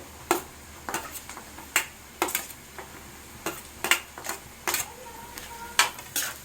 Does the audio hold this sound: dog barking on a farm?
no